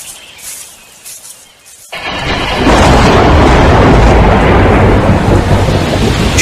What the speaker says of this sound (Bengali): ঘন ঘন বাজ পড়ার শব্দে চারদিক যেন কেঁপে উঠতে লাগলো।